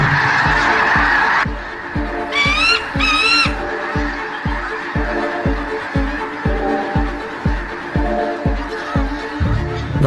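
A dense flock of geese honks continuously, loud and near, with a few sharper squawking calls rising above the steady chorus.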